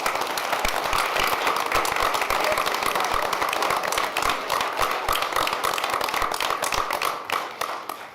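A school board meeting audience applauds at a certificate presentation, a steady patter of many hands clapping at moderate distance, continuing evenly for several seconds.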